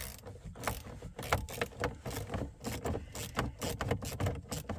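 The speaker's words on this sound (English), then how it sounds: "7mm screw, 7mm socket." A 7mm socket turns out a screw on a cover inside an Audi A4 B8. The clicking is quiet and close, a rapid, steady stream of small ratcheting mechanical ticks with no talking.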